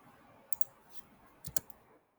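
Quiet computer mouse clicks come in two small pairs, sharp and close against a faint room background, with no one talking.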